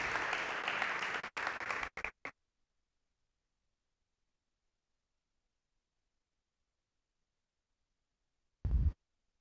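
A church congregation applauds in a burst of dense clapping for about two seconds before it cuts to silence, with a brief low thump near the end.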